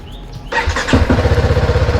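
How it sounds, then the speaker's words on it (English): A BMW G310R motorcycle engine cranks briefly, then catches and settles into a loud, steady, close idle with an even pulsing rhythm. "Now I'm going to start the bike"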